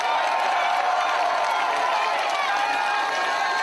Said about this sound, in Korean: 여러분 박수 많이 보내주세요